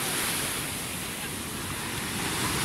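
Stormy Mediterranean sea waves wash continuously onto the Belek shoreline after bad weather, a steady broadband roar of surf with wind noise buffeting the microphone throughout.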